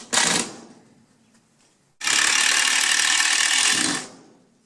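A power tool drives bolts into chicken coop composter parts in two loud, close bursts, a brief one and then a sustained whirring run of about two seconds, with no talk.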